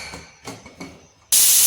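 A pressure cooker holding soya khichdi, its lid just closed, bursts into a loud, sudden steam hiss after a few quiet kitchen clatters, and the hiss holds steady to the end.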